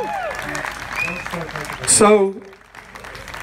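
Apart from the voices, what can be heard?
audience applause for the police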